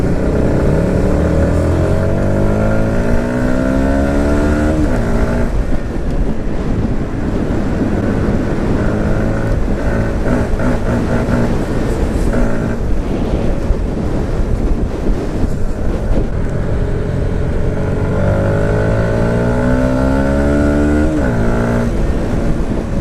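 Engine of a 2018 Yamaha MT 125 motorcycle on a ride, loud and close, climbing repeatedly in pitch through gear changes with repeated rev sweeps under constant wind rush.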